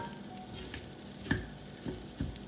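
Garlic fried rice frying in a pan, a soft, continuous sizzle with a few sharper crackles and spatters, fairly faint and close, with no voices.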